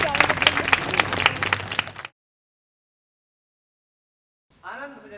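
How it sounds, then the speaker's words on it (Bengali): An audience at a national theatre festival claps loudly for a children's workshop performance, a dense burst of applause for about two seconds before abruptly cutting to silence, followed by a voice. "ওদের জন্য জোরে হাততালি দিলাম।"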